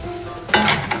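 Boiled gnocchi frying in a pan with onions, a steady sizzle that swells into louder scraping, stirring bursts as the pieces are turned partway through, close and without talk.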